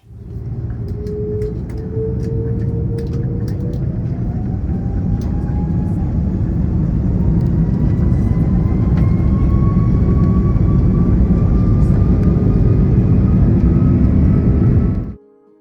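A Swiss airliner taxis out at Zurich airport, its jet engines holding a steady, loud rumble with a slowly rising whine throughout, heard from inside the cabin.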